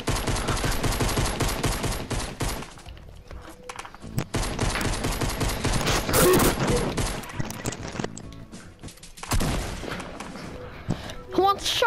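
Dense, continuous gunfire from the video game Fortnite, with shotgun blasts mixed into rapid bursts and booms, loud and close throughout, with a voice talking over parts of it.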